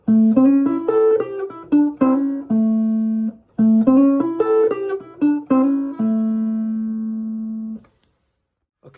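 A Chicago blues lick on electric guitar in an early electric blues style, played clean and close: quick picked notes sliding into a held root note, repeated twice with sustained ringing endings and no talking.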